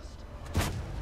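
A single tank gun shot fired on the move in World of Tanks, one short low boom near the middle of a brief moment.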